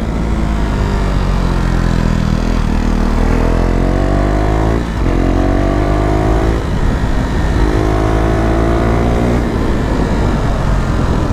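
Modified motorcycle engine braking: loud, close engine drone with repeated falling and rising pitch sweeps as revs drop and recover, steady throughout with no talk.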